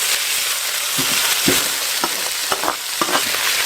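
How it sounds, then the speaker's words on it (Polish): Vegetables fry in a pan for meatballs in creamy dill sauce, a continuous loud sizzle with occasional scraping stir knocks and no talking. "I to mi się smaży."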